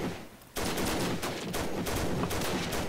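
Dense, sustained gunfire in a World War One trench battle video game, a continuous roar of rapid overlapping shots that starts abruptly and stays loud throughout.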